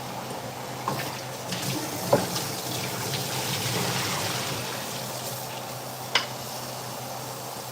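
Tomatillos are rinsed under a running kitchen tap for pozole, a steady broadband rush of water with a couple of sharp knocks and splashes as they are handled.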